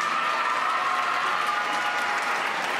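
An audience at a Miss Saône-et-Loire 2014 pageant applauds a candidate's entrance with steady, dense clapping filling the whole stretch, a little crowd murmur underneath.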